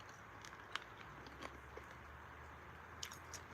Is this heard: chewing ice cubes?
yes